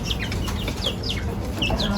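A green African lovebird gives rapid, shrill chirps in quick repeated bursts, close and lively over a constant noisy background.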